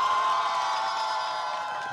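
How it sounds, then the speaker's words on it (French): A studio audience on a French-language TV cinema show cheers and applauds in a dense, sustained roar of voices and clapping that fades slightly toward the end. "Applaudissez."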